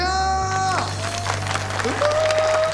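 An audience applauds for a visiting actress, steady clapping under music with tonal notes, moderately loud and continuous.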